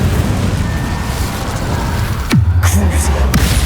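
A fire spell is cast in the Hogwarts Legacy video game: a sudden whooshing burst lands midway, followed by a low rumbling roar over a steady background of game ambience.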